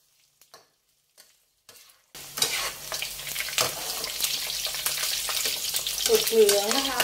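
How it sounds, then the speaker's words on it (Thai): Pork belly slices go into hot oil at medium heat for a second crisping fry; after a quiet start with a few clicks, a loud, dense bubbling sizzle bursts in and keeps building. "นำหมูที่เราพักเอาไว้แล้วนะคะลงไปทอดรอบนี้จะทอดจนสุกเหลืองกรอบเลยค่ะ"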